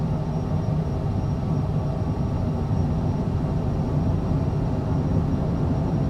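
A Working Title Cessna CJ4 business jet's engines run at takeoff power in Microsoft Flight Simulator 2020, a steady, dense, rumbling roar that holds at constant loudness throughout, with no talking.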